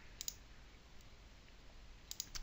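A few light computer mouse clicks in the Unity editor, in two brief clusters at the start and end with quiet between, close and faint.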